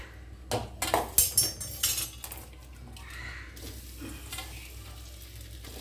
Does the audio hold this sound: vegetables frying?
yes